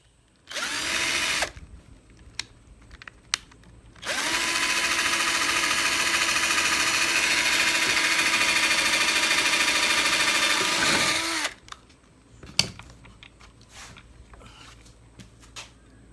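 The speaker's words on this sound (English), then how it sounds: "Always pre-drill. It makes it so much easier to screw these things in." Power drill pre-drilling screw holes in pallet wood for a build project: a short whirring burst, then a long steady loud run of about seven seconds, followed by scattered clicks and knocks nearby.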